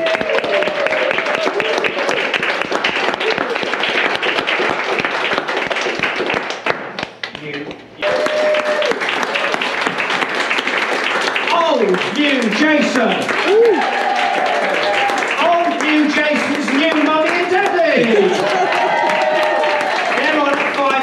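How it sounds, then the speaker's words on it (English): Dense, continuous applause and tapping from an audience at the end of an Edinburgh Fringe comedy show, loud and close, with a brief dip partway through and voices and cheers mixed in over the clapping. "A round of applause for Tony Goodman"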